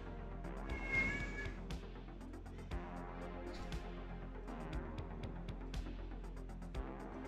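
A cat meows and yowls loudly, with a sharp cry near the start and more calls over a steady low background hum, with no talk.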